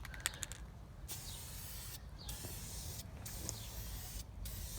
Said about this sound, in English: We're gonna go ahead and start spray painting this.